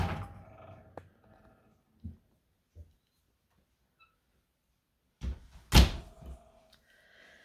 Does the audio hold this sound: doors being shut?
yes